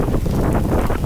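Strong gusts of wind during a winter blizzard while camping, a loud roaring rush buffeting the microphone in a continuous low rumble with no pause.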